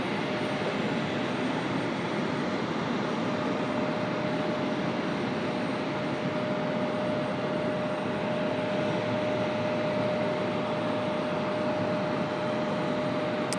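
An Embraer E175 jet takes off at Raleigh-Durham airport, a loud continuous engine roar with a steady high whine held throughout, heard from nearby with no voices.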